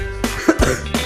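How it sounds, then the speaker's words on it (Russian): A person coughs in a quick series of about four loud, harsh, close bursts, with a throat-clearing quality. "что вы кашляете?"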